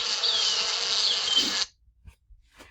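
Drone bees balling around a queen give a dense, loud, continuous buzzing drone that cuts off abruptly, followed by faint scattered noises.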